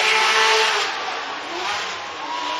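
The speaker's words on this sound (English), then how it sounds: "He taps it. Matt Field spins and goes into the wall." A Corvette drift car at a championship event roars loudly with a sustained engine wail and screeching tyres as it spins out and heads into the wall, the noise steady and dense throughout.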